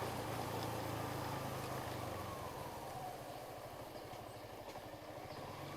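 A motorcycle engine with freshly replaced bearings idles steadily close by, a low, even rumble throughout with no voices.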